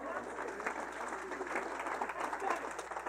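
An audience claps after a card trick at a Rotary Club family talk, a soft and steady patter of applause from a room of people, fairly distant and unbroken throughout.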